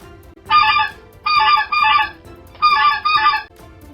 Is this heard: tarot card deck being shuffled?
no